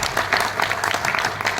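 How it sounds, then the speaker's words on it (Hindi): Loud audience applause at a business seminar in Ahmedabad, Gujarat, a steady dense wash of clapping that holds for the whole short stretch without pause. "जोरदार तालियों के बीच"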